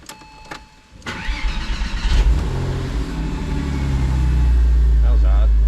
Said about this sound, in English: let's turn on the ignition